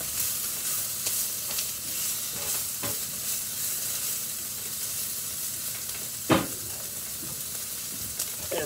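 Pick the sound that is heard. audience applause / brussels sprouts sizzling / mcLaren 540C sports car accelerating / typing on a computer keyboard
brussels sprouts sizzling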